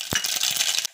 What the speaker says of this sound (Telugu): ఫ్రెండ్స్ ఆవాలు వేస్తున్నాను